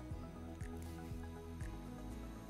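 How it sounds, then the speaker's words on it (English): A spoon stirs grass-fed ground beef, beans, tomato sauce and canned tomatoes with peppers for chili, giving close, wet squelching strokes in a steady rhythm of four or five stirs. "add this to the ground beef and beans. Stir completely, mix thoroughly."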